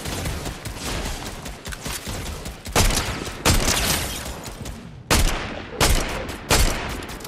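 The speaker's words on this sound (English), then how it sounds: "Somebody's shooting behind us." Blaster gunfire in a Star Wars video game rattles in loud, rapid volleys with several sharp, heavy impacts punctuating the continuous shooting.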